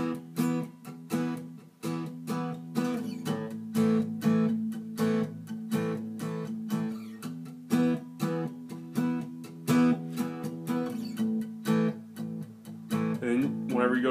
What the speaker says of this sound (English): palm muted kind of down strum kind of deal between this E and this A